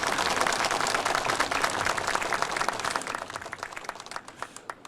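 A crowd of shoppers at an agricultural produce market breaks into sustained, loud applause, many hands clapping densely for several seconds before the clapping thins out and fades.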